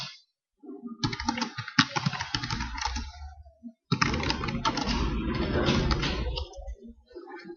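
Typing a full name in capital letters on a computer keyboard, a dense run of quick key clicks in two bursts separated by a short pause, close and fairly loud, with no voice.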